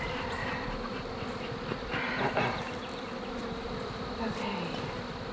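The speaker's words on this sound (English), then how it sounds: "There's so many bees." A dense, continuous buzz of many bees fills the air, close and steady throughout, with no voices.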